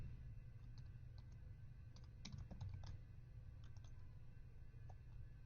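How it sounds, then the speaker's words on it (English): Quiet, steady typing on a computer keyboard while entering raw HTML, with irregular clusters of light key clicks and occasional louder taps over a low background hiss. "typing those right into this interface, the raw HTML"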